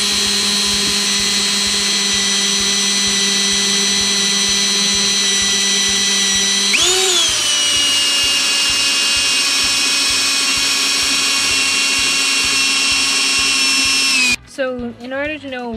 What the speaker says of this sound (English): we need to drill the holes in the firewall here